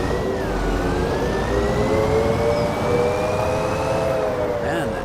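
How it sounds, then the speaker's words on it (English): A JCB machine in Farming Simulator 25 gives a loud, steady engine drone with a rising and falling whine throughout, heavy machinery droning without pause. "Man, that JCB is loud."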